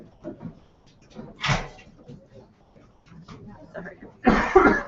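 A few scattered coughs break up muffled shuffling and light knocks, ending with a louder harsh cough or throat clearing nearby.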